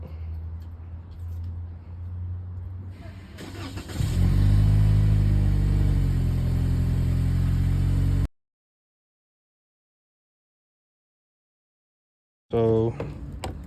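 A Toyota Camry XSE engine cranks and fires up, running loudly with a low rumble for a few seconds before cutting off abruptly, with faint background noise beforehand and a brief burst of sound at the end.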